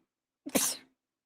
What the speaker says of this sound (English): I'm over here sneezing and coughing